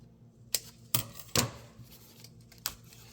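Scissors or snips cutting through plastic slats of a cordless mini blind: four or five sharp, close snaps spaced irregularly over a quiet background.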